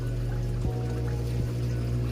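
Water from an aquarium sump pours steadily into a flask, a continuous liquid rush with a faint rising fill, alone and fairly close.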